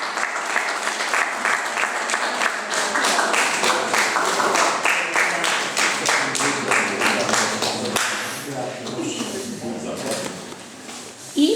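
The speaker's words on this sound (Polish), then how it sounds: "Wielki brawa i gratulacje dla was tak Grzegorza." A hall audience at a museum awards ceremony gives prize winners sustained, dense applause that stays loud and steady for about ten seconds before thinning out, with voices mixed into the clapping.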